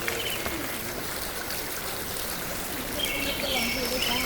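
Spring water flows out from under a tree at its source, a steady close trickle and rush that runs unbroken throughout, with faint birdsong in the background.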